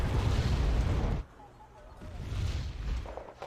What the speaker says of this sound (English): Now we do have counter coming in. From our teammates' Nora artillery units.